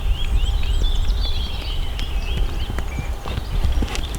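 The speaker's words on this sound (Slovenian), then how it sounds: "Še dodaš, pa skrajšaš kas, pa prehod v galop." Horse hooves on an arena surface at a riding school, a steady rhythmic clip-clop of trotting strides that carries on without a break, moderately close, with faint birdsong in the background.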